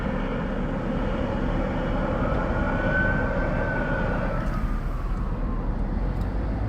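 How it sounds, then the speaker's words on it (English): A distant police siren rises and falls once, nearly buried under a loud, steady roar of engine or rotor noise, at night in Los Angeles. "And now I'm hearing patrol cars going over."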